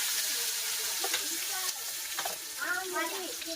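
Onions fry in a pan for aloo khichdi, giving a continuous close hiss and sizzle with a few soft stirring scrapes and faint background sounds.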